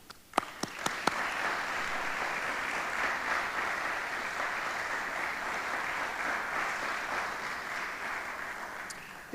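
Steady audience applause welcoming a lecturer at a faith and science lecture, a dense even patter of clapping from a hall crowd lasting several seconds after a few separate claps at the start.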